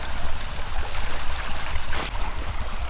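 Bamboo-tube rice (khao lam) cooks over a jungle campfire with a steady, close hissing and bubbling that sounds like a trickling stream. A thin high sizzle rides on top for most of the clip.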